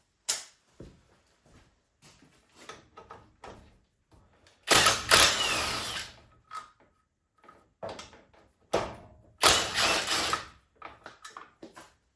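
Bolts being loosened on a Suzuki Samurai that has sat unused for five years, heard as scattered metallic clicks and short scrapes with two longer, louder wrenching bursts, close by and with no talk.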